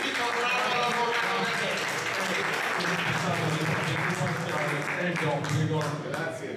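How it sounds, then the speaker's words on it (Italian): Audience applause at an award ceremony for a memorial event, sustained clapping throughout with voices and crowd chatter mixed in underneath. "Facciamo un applauso per ben ritornato all'avvocato"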